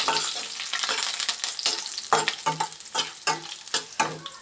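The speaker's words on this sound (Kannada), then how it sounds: "ಫ್ಲೇಮ್ ಕಡಿಮೆ ಇಟ್ಕೊಂಡು ನಾವು ಫ್ರೈ ಮಾಡ್ಕೊಬೇಕು" Curry leaves with grated coconut fry in oil over a low flame for a tempering, giving a steady close sizzle broken by repeated scraping stirs of a spoon in the pan, with no voices.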